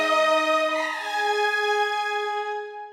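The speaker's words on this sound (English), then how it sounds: "you see that the high strings are coming in." Sustained orchestral high strings from the BBO Black Eye sample library, a bright held chord swelling slightly and fading near the end, played alone with no voices.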